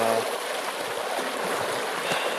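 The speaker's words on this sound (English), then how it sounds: "I'm about at the point where I'm going to cross the creek here. It's been diverted into an irrigation canal." Creek water diverted into an irrigation canal in Capitol Reef country flows steadily with a close, even rushing and gurgling, and no voices are heard.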